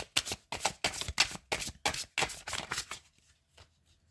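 Tarot cards being shuffled, several quick riffling bursts close by in a regular rhythm that stop after about three seconds and leave near silence.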